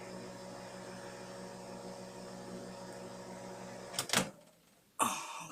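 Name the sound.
microwave oven running, cooking food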